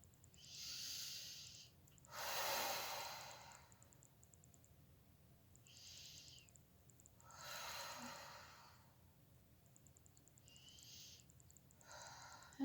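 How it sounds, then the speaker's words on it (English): Slow, deep abdominal breathing, long airy inhales and exhales alternating in a steady rhythm about every three seconds, close and soft in a quiet room during gas relief poses. "taking some nice deep abdominal breaths."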